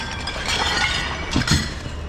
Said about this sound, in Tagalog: Nahulog yung ating tubig.